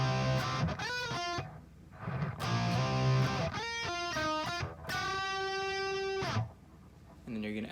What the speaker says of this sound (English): you're going to half step bend